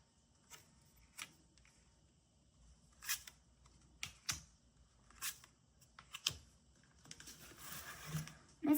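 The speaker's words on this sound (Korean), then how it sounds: "여러분에게 들어올 예언 카드 뽑아보도록 할게요" Tarot cards being drawn and shuffled during a fortune-telling reading, heard as a handful of soft, quiet slaps and card-flicks spaced across the clip, with a brief flurry of faint shuffling near the end.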